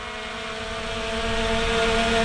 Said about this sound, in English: I'm sure you can hear the drone up there.